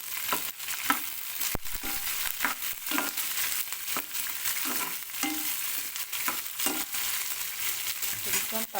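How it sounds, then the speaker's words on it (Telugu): Peanuts, chana dal and green chillies fry in hot oil, a continuous crackling sizzle broken by repeated scraping stirs in an even rhythm, close and steady with no talk. "పల్లీలు శనగపప్పు అనేవి కొంచెం కలర్ వచ్చాక కట్ చేసి వచ్చిన పచ్చిమిర్చి వేసుకొని ఒకసారి కలుపుకోవాలి"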